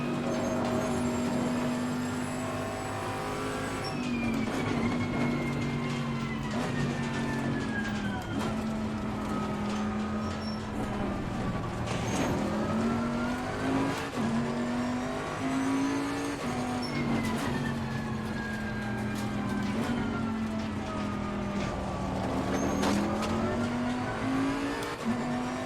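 A race car engine in a sim racing game at Laguna Seca roars loudly and continuously, its pitch climbing and falling through repeated gear changes and corners, with no talk over it.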